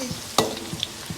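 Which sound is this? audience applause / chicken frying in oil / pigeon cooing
chicken frying in oil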